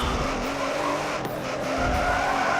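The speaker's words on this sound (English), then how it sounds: "As I go under the brakes, and we've collided, and he's hit the tyre wall." Race cars in Forza Motorsport 7 at Monza collide under braking, one striking the tyre wall: a steady, loud engine roar with tyre skid and a brief impact smear midway, no talk.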